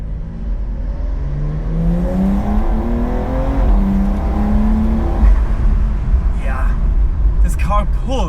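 A Porsche 992.2 Cabriolet with a turbocharged engine accelerates on an Alpine mountain pass road, its tone climbing steadily through a long pull, then a gear change and renewed rise, loud from inside the car with a low rumble beneath.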